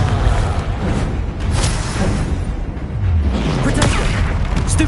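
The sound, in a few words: Confringo explosion spell from video game Hogwarts Legacy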